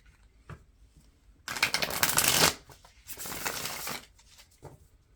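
Two bursts of oracle card shuffling, a riffle followed by a second longer pass, close and crisp, with quiet pauses around them.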